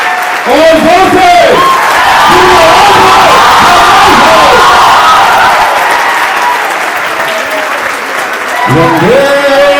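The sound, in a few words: loud applause and cheering from an audience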